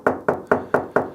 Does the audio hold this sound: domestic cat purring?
no